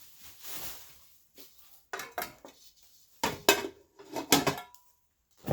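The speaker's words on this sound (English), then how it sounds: "That's the lid for the frying pan." The lid of a frying pan from a 64-piece Sedona cookware set is handled up close, giving light clinks, taps and knocks in short irregular bursts with quiet pauses between them.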